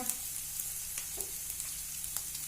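Cumin powder, red chili powder, amchur and garam masala with green chili go into hot oil for a cauliflower paratha filling, making a faint, even sizzle with a few light stirring taps and no voices.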